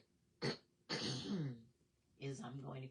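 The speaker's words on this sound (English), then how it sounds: "I'm going to clear my throat" A person clears their throat, a short harsh rasp followed by a longer rough clearing and a final voiced throaty rumble, close up in a quiet room.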